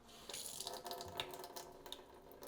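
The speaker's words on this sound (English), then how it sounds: "under running water" Tap water running in a light stream over a whole egg at a kitchen sink, a soft uneven splashing patter, quiet and close, with no talk.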